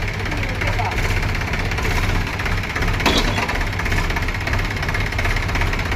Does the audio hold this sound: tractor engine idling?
yes